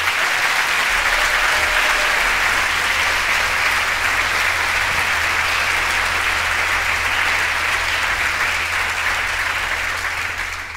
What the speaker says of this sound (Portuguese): Para quem peço um aplauso, por favor.